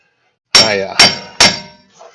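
Three sharp metallic hammer blows ring out as old wheel bolts are driven out of the front hub of a 2003 Chevrolet Silverado. The loud, close strikes come about half a second apart, each with a brief clanging ring, and no one speaks.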